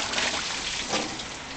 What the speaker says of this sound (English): This is the main electric water pump. That's on full flow at the moment.